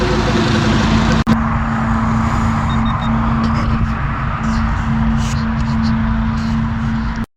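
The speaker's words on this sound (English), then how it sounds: "Oh, this traffic's horrible." Road traffic rushes past outdoors on an autumn day, a loud continuous roar of car and truck engines and tyres on pavement with a steady hum, one brief break, then the noise carries on until it cuts off abruptly.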